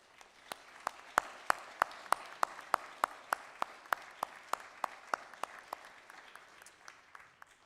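Audience applause at a military conference: evenly spaced, sharp hand claps ring out in a slow steady rhythm over a soft wash of crowd noise, gradually thinning toward the end.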